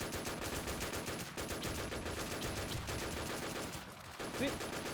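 Rapid video game gunfire crackles in dense, continuous bursts through the whole stretch, loud and close, with a voice faintly mixed in underneath.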